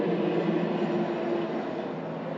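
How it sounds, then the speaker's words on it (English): A road train roars past on an Australian highway, a loud, broad rumbling wash of engine and tyre noise that fades slightly as it passes, with no talking. "Sorry, road train."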